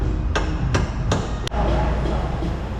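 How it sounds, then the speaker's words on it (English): Four sharp hammer blows ring out on a metal camber arm of a wrecked car at an even pace, close and loud, followed by a steady background rumble. "Wait till I hit it with this hammer though."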